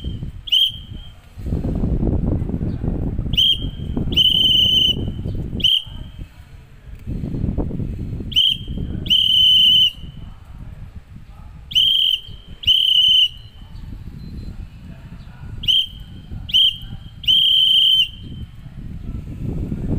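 Morse code tapped out on a whistle for the word pramuka: a series of piercing short and long whistle tones in irregular groups, loud and close, over a steady background of rustling and wind-like noise.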